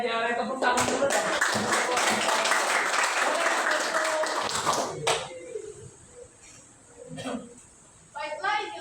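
A classroom audience claps for a group presentation in a Bahasa Indonesia lesson: dense, steady applause for several seconds that then thins out. Voices talk afterwards amid scattered taps and a door-like knock.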